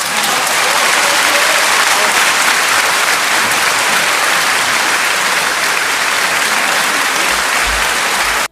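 Loud, dense audience applause fills the whole stretch at a steady level, many hands clapping together without pause until it cuts off at the very end.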